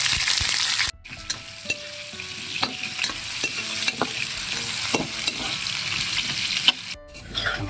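Potatoes and carrot frying in a pan for chicken kaldereta, a steady close sizzle broken by repeated scraping stirs, with one brief drop in level.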